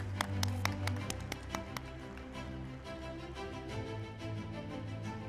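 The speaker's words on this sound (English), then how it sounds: "Let's have a huge round of applause" Applause at a listing ceremony for Canara HSBC Life Insurance Company: a few sharp, separate claps open, then merge into a steady, fairly close round of clapping over a low hum.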